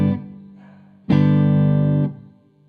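A sustained guitar note from a reggae lesson rings steadily, then is choked off abruptly as the fretting finger eases up. A quieter chord precedes it, and a brief muted decay follows.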